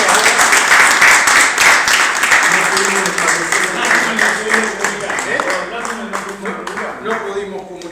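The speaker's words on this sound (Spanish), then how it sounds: "le damos un fuerte aplauso a Don Linares" An audience at a screening and talk claps in dense, sustained applause that starts loud and slowly tapers, with some voices mixed in.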